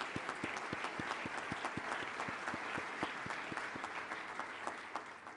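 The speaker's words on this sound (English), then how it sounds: "So stand up and take a little clap." Audience applause at an automotive interior awards ceremony, honoring the Ram 1500 Laramie Longhorn truck, with steady mid-room clapping sustained throughout alongside a few sharper individual claps.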